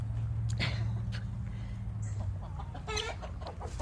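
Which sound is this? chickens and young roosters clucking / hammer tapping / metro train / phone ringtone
chickens and young roosters clucking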